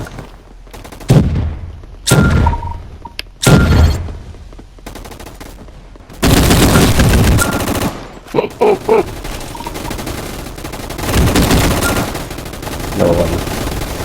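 Bursts of HK54 gunfire in Roblox Gunfight Arena ring out as several separate loud shots, followed by longer sustained automatic volleys with brief gaps between them.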